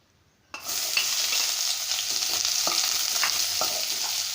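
Onions hit hot oil in a pan for samosa stuffing, starting a sudden loud sizzle that holds steady while a spatula stirs with occasional scrapes.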